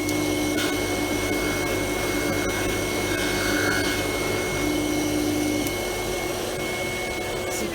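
A polishing machine buffs a pewter vase on a swan's down mop with polishing compound, giving a steady, loud motor whine and rushing hum that runs unbroken throughout, with no talking.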